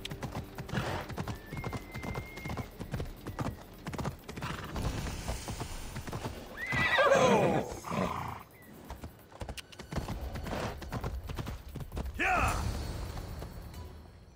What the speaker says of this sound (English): I thought Adonis could make good use of this horse.